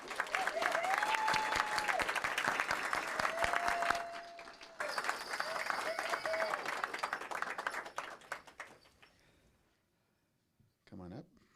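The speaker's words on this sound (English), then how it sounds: "let's give her a warm round of applause." Warm applause from the audience in a city council chamber for an employee honoree, loud and sustained for several seconds, briefly dipping, then resuming before fading to near silence, with a short sound near the end.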